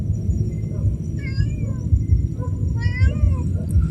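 A cat meows several times at a seaside spot on an island, short rising and falling calls coming close and clear over a steady low background rumble.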